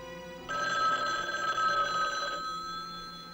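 A telephone bell rings indoors in a crime drama scene: one sustained, bright metallic ring lasting about two seconds, fairly loud and clear, then fading into room tone.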